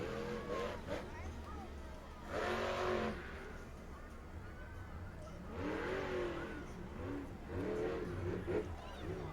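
A monster truck engine revs at a freestyle run at an outdoor arena. The roar swells in several loud bursts over a steady rumble, and a commentator talks over it throughout.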